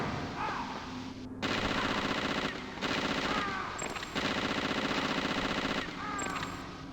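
Machine-gun fire rattles in Metal Gear Solid as shots are aimed at ravens. Several loud, rapid bursts are separated by brief pauses, with faint bird-like calls in between.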